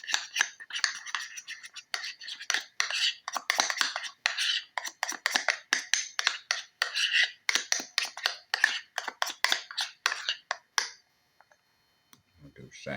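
Green coloring mixed into pound cake batter in a bowl, heard as a close, rapid run of wet clicking and tapping strokes that stops near the end, without talk.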